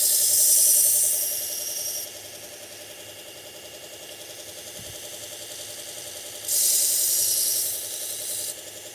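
A kitchen knife is sharpened on a belt grinder platen, with a steady motor drone under a bright rasping grind that comes in two bursts, one at the start and one near the end.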